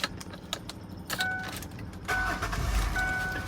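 A 2004 Mercury Monterey minivan's engine is started, its low rumble swelling midway after some keys jingle and chimes sound inside the cabin.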